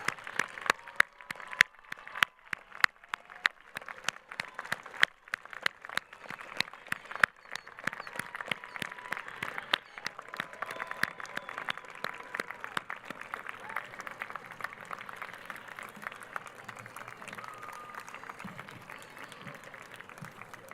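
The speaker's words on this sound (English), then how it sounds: "join me in applause for your families and friends who have given you their support throughout your education" The audience at a Whittier Law School graduation ceremony applauds, with sharp individual claps near the start that thicken into a steady sustained clapping as the crowd joins in, and faint voices underneath.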